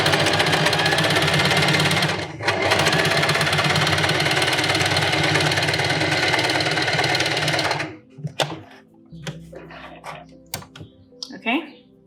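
A sewing machine stitches along a fabric edge with a loud, steady mechanical whir for about eight seconds, then stops, followed by quieter handling sounds and a voice speaking.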